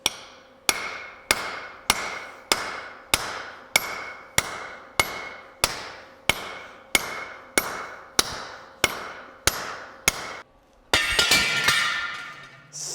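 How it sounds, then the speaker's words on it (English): A sledgehammer strikes part of a Beaudry power hammer under restoration, about fourteen evenly spaced ringing metallic blows, loud and close, each decaying quickly, followed by a clattering burst as something breaks loose. "I should go around to the other side and whack on it with the sledge"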